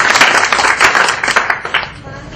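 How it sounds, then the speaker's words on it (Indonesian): A debate audience applauds a speaker, giving a loud, dense burst of many hands clapping that fades slightly toward the end. "tepuk tangan sekali lagi untuk Pak Stephen Lee"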